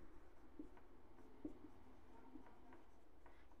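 Chalk or marker writing on a board during a Hindi-language math lecture on place values, soft scratchy strokes at a low level under steady room noise, with no talking.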